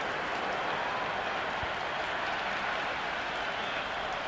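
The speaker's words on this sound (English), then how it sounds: "The crowd is electric right now." Stadium crowd applause in the Cricket 26 video game, a steady broadband wash of clapping and crowd noise held at an even level throughout, moderately distant.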